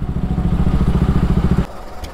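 Close, loud motorcycle engine idling with a rapid, even thumping rhythm as the bike is moved to the side and parked, then cutting off into a quieter rumble.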